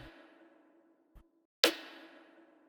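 Layered snare and rimshot drum samples: two dry percussive hits ring out in near silence, a soft low thump, then a sharp, bright crack with a short decaying tail.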